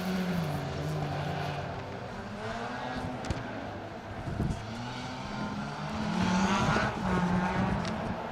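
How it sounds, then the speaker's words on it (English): A Corsa kit rally car built for an asphalt rally championship roars past, its engine note rising and shifting through gears with a buzzing, revving tone, moderately distant and rolling in and out over about eight seconds. "that great sounding Corsa kit car that Kev Monaghan built"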